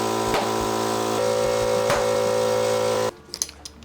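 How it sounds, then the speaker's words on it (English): Loud air compressor running while seating the bead of a Onewheel GT tire, a steady mechanical drone with harmonic hum and rhythmic pulsing that cuts off abruptly near the end, leaving faint clicks and handling noises. "My compressor is very loud."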